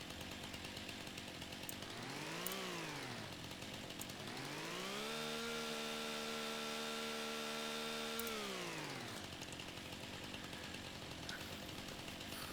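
A chainsaw in Farming Simulator 25 runs continuously, rising and falling in pitch as it revs up, holds a steady high whine under load, then revs down, fairly faint and with no talk.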